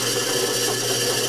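A drill bores slowly through thin aluminum sheet for a homemade caldera cone stove, giving a steady, close whining grind with a bright metallic edge that holds evenly throughout, with no voices.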